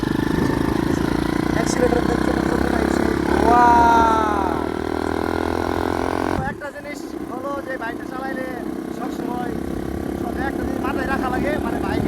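A motorcycle engine runs steadily and loudly throughout, idling and revving under close conversation and laughter, with a brief drop in level partway through before the engine noise continues.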